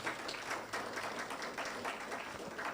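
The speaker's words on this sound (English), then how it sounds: "please clap for her as well" Audience clapping for a woman joining the podium at a distinguished lecture, a steady wash of many hands applauding at moderate level throughout, with no speech over it.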